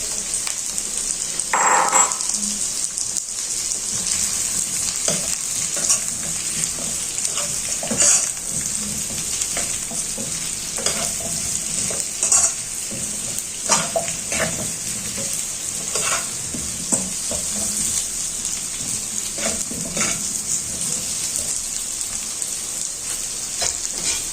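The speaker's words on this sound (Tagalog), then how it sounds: "Iigisa natin yung papaya. Para lumambot na" Hard papaya sautéed in a pan for egg tinola, a continuous close sizzle broken by repeated spatula scrapes and stirring knocks, with no talk.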